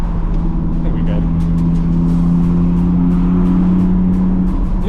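An Audi R8 drives at night, its engine a loud, close, steady hum with a constant low tone, heard from inside the car while someone talks over it.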